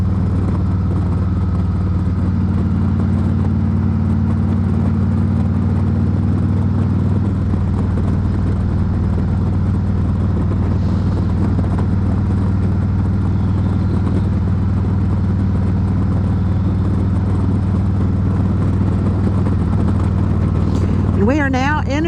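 Motorcycle ride on Highway 232 through Tennessee countryside, a steady low engine drone with wind rush running continuously and loud throughout, shifting slightly in tone partway through, with a rising whine near the end.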